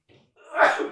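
A single short, close human sneeze, a quick intake followed by a sharp burst of breath, in a quiet room with no talking over it.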